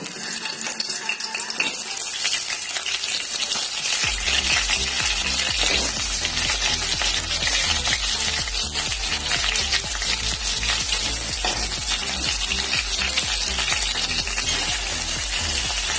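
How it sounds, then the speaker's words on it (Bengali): Potatoes frying in hot oil in a kadai on low heat, a loud, steady, dense sizzle that swells after a few seconds and carries on without break, with faint tap-like clatter and no talk. "এখন আঁচটা কমিয়ে দিয়ে আমি আলুগুলোকে ভেজে নেব।"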